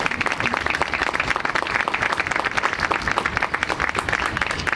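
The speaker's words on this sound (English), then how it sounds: "Let's give her another round of applause." Applause from an audience at a 25th anniversary Kinte-Haley memorial celebration, a dense, steady stretch of clapping that carries on loud and unbroken from start to end.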